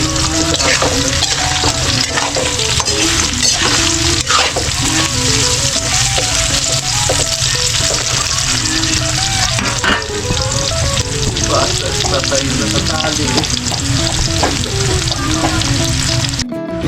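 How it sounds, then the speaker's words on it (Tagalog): Bananas sizzle and crackle steadily in hot oil in a pan, a continuous loud frying hiss with stirring clatter, cooked as part of an igado dish, with no talk. "Prituin mo natin yung saging para ilalagay natin yung saging sa igado"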